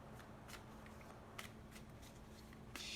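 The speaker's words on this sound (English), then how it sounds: "shuffling your cards, so we just need a little shuffle here" Tarot cards being shuffled close by: quiet papery riffles and soft slaps in short bursts, a few sharper snaps at intervals over a low steady hum, with no talking.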